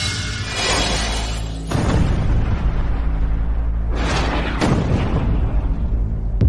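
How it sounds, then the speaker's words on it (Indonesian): Two deep, powerful explosions of a plane with rumbling booms, the first followed by a second blast a couple of seconds later, loud and close. "Pesawatnya meledak."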